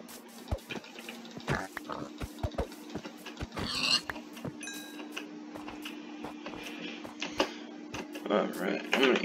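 Pigs in the video game Minecraft grunt and oink in short bursts, mixed with scattered game clicks and splashes while a player talks over them.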